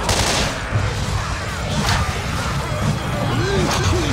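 Gunfire in the zombie shooter Left 4 Dead 2 rattles as rapid shots layered over dense game noise and rumbling ambience, steady and fairly loud throughout.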